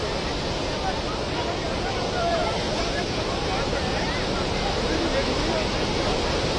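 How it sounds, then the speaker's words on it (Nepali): A swollen, flooding river in Nepal rushes as a loud, constant roar of water, steady and close, with no breaks. "खोला कत्रो आयो है"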